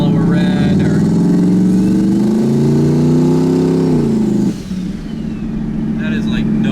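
A turbocharged LSX-swapped Chevrolet Colorado pickup engine drones steadily under light throttle while driving, its pitch slowly climbing then dropping off as the load eases, with people talking over it inside the cab.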